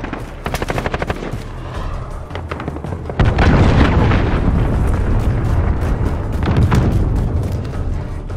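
Rapid bursts of automatic gunfire in Call of Duty Modern Warfare team deathmatch give way to a loud, sustained roar of a cruise missile explosion that rumbles on with scattered shots over it.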